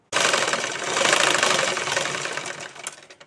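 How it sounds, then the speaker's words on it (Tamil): A sewing machine running zigzag stitches along fabric, starting abruptly with a fast, even mechanical whir that holds steady and then slows to a few separate needle strokes before stopping; nobody speaks. "இது சிக்ஸாக் முறைப்படி தைங்க"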